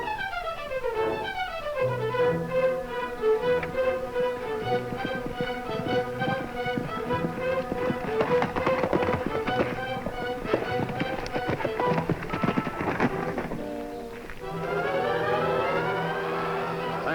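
A galloping horse in an old Western TV adventure scene, set under loud orchestral music that swells throughout, with hoofbeats rhythmically audible beneath the score.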